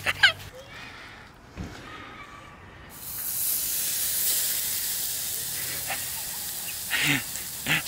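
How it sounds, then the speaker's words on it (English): Steak sizzling on a camp grill outdoors, a steady broad hiss rising after a few quiet seconds and continuing under brief faint speech and small clicks. "Steak's on, guys."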